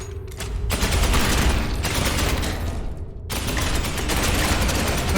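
Heavy sustained gunfire from Space Hulk Ascension, a Warhammer 40k game, rolls on as dense continuous bursts with one short break before resuming loud and close.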